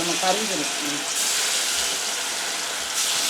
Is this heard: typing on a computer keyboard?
no